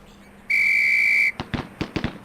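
A loud, steady, shrill drill whistle sounds for almost a second at the police academy in the 1995 game Police Quest: SWAT, followed by a quick string of sharp gunshots.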